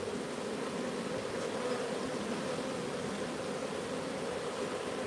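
Honey bees swarm around an open hive after being smoked, making a dense, continuous buzzing drone at close range, fairly quiet and steady, with no voices.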